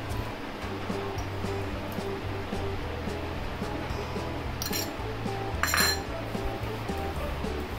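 A spoon clinks steadily against a bowl while mixing coconut powder and milk, a quick repeated light tapping and scraping, fairly close, with a low background hum and a brief sharper clatter near the end.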